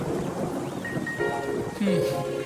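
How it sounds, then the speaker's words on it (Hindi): Steady rain patters with a low rumble of thunder underneath, while faint tonal sounds drift over the top. "बिजली कड़क रही है, बारिश होने वाली है"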